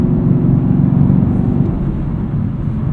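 A 2018 Chevrolet Camaro 2SS with a six-speed manual, driven in sport mode, gives a steady, deep engine drone heard from inside the cabin, loud and even with no talking.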